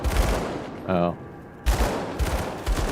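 Dual pistols firing in the Grim Dawn video game, loud bursts of shots at the start and end, briefly broken by a tonal game effect, with no talk over them.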